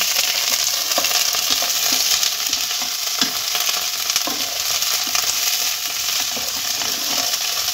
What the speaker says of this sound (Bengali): এবার কপিটাকে আরেকটু আমি নেড়ে নেব, আর এর সঙ্গে দিয়ে দেবো মটরশুঁটি